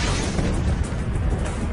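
Artillery shells exploding in a Taliban barrage on rebel bunkers: a dense, continuous low rumble of heavy booms that roll into one another, loud and close, without clear gaps between blasts.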